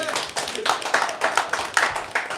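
Audience applause at a live show in a venue: a steady run of crowd clapping with sharp hand-claps rising and falling for a couple of seconds, fairly close and with no voices.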